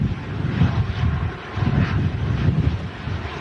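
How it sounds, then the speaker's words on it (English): Gusty wind buffets a microphone outdoors at an airport, a steady rumbling roar that swells and eases in uneven bursts, close and fairly loud, with no talk. "It goes from really quiet to really, really fierce winds in just a couple of seconds."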